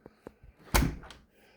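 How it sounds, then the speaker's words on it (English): A house door is shut against its frame with a single solid thud, preceded by a few faint handling clicks and followed by a brief rattle as it settles; the door fits loosely and lets in cold air. "This door here, when I shut it"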